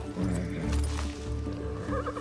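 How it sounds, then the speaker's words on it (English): A horse whinnies in the video game Far Cry 6 over a steady electronic background, with faint hoof clopping mixed in. "I actually spawned one of the horses."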